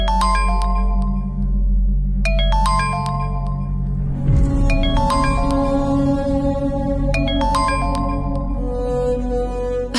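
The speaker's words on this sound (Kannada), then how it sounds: "ಎಕ್ಸ್ಕ್ಯೂಸ್ ಮೀ, ನನ್ನ ಫೋನ್ ರಿಂಗ್ ಆಗ್ತಿದೆ." A mobile phone ringtone plays in a Kannada TV serial scene, a repeating melodic chime pattern that sounds loud and close, in bursts, over a low background hum, with no talking.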